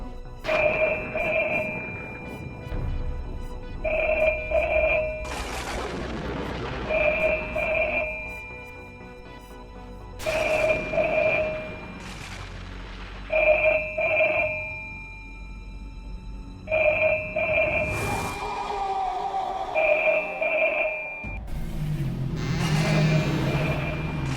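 A telephone in a house rings again and again in regular double bursts, loud and near, with rustling and movement between rings.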